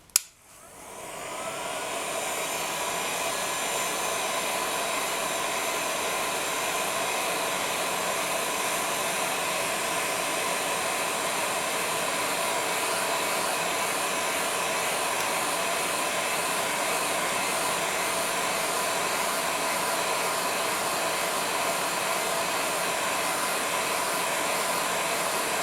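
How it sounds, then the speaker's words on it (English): Heat gun blowing steadily to set a polymer clay pendant, a loud continuous hot-air whoosh that starts abruptly and holds unbroken for the whole stretch with no voices. "I'm going to use a heat gun to set this"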